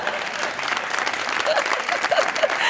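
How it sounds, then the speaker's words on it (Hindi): Audience applause fills the clip, a dense steady burst of clapping from a studio crowd during an interview, with a few voices briefly audible over it. "तालियां!"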